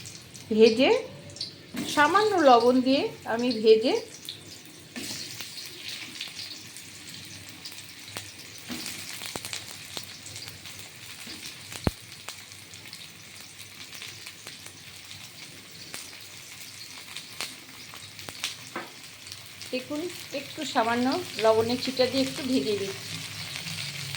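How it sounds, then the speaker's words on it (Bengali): Mushrooms frying lightly in a little oil in a pan, a steady soft sizzle running under the whole stretch, with someone speaking over it near the start and again near the end. "মাশরুমটা আমি এর মধ্যে ভেজে নেব হালকা করে"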